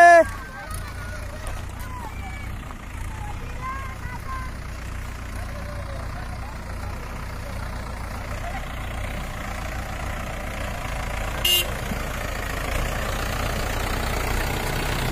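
A tractor pulls up at a riverbank for a village Ganpati immersion, its low engine rumble steady throughout beneath scattered honk-like calls and a few distant voices.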